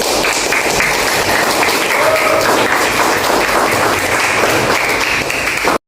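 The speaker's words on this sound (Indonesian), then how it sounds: "Kita kasih aplaus dulu" Audience in a classroom applauding a presenting group, dense sustained clapping from many hands at close range lasting several seconds before stopping abruptly.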